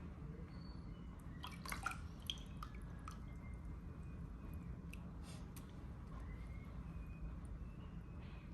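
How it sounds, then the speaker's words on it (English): A wet clay coil for an incense burner is dunked in a bucket of water. Faint close drips and small splashy squelches come in a few scattered bursts over a quiet room background, with no talk. "So I'm gonna dunk it in my bucket of water."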